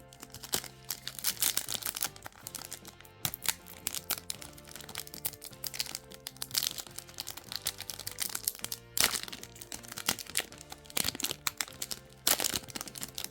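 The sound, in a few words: Pokémon card booster pack being torn open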